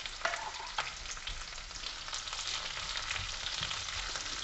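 Capsicum frying in a pan gives a close, steady crackling sizzle with occasional stirring scrapes, no voices.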